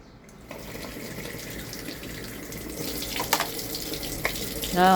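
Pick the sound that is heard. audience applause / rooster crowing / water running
water running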